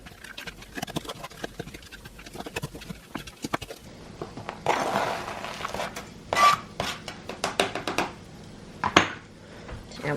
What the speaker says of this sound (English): So I'm just roughly chopping, try not to make a mess, this bacon to put on there.